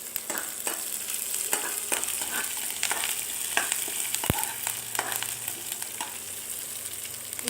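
Onions and curry leaves frying in a pan for a village-style ragi khichdi, giving a steady close crackling sizzle broken by intermittent spoon scrapes and one sharp tap, with no one talking.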